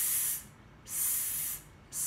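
A voice makes a drawn-out hissing "s" sound three times in a row, each stretch close and steady with short gaps between, imitating a hiss as part of a number lesson.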